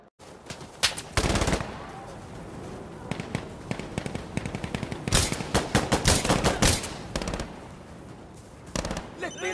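Sustained bursts of MG42 machine-gun fire in the shooter game Insurgency: Sandstorm, rapid rattling volleys with short pauses between them, loud and close, mixed with other scattered gunfire.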